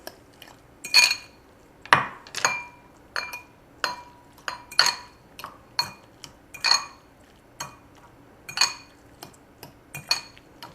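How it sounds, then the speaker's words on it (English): Guacamole stirred in a bowl at a farmers market demo, a utensil clinking and scraping against the dish in a steady rhythm of sharp, close strikes for about ten seconds, with no talking. "You just want to mix this."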